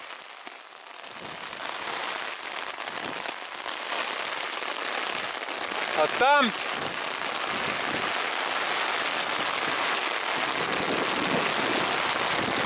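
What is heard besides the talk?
hail falling during a bike tour in Sweden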